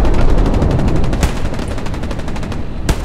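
An MG42 machine gun firing from a bunker in the Hell Let Loose game: a loud, very rapid, even rattle of shots runs almost continuously, pauses briefly, then resumes with one more short burst.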